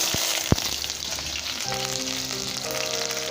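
Onions dropped into hot oil with five-spice tempering for a bitter gourd fry: a sharp hit, then a loud, steady sizzle with stirring, a tonal hum entering partway through.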